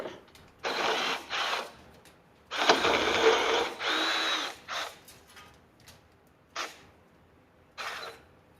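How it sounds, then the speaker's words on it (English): A cordless drill whirs in several short bursts, some longer than others, separated by quiet pauses; close and fairly loud. "I think I should just get a bigger battery for my cordless drill"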